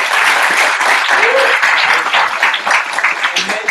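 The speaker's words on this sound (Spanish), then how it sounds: "den un aplauso fuerte a Santiago y Trago" Loud, continuous applause from a crowd, dense clapping filling the room without pause.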